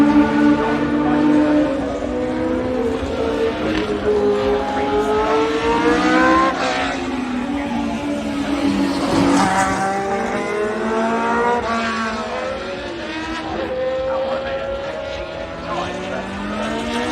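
A loud Formula 1 race car engine screams and revs at the British Grand Prix, pitch sweeping up and down as it passes close by, with a harsh sustained roar throughout.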